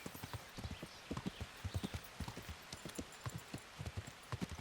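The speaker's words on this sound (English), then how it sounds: "Off-road horse." A horse's hooves clip-clop steadily at a brisk riding pace through forest terrain in the video game Kingdom Come Deliverance, the rhythmic strikes close and fairly quiet.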